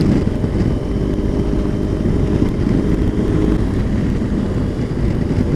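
A motorbike rides along a wet country road around Denbigh, its engine a loud, constant low rumble blended with heavy wind buffeting and tyre hiss, unbroken for the whole stretch.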